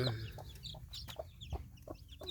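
A Texas hen clucking softly beside newly hatched chicks, a string of short, close clucks and faint peeps in an irregular rhythm, with no talk.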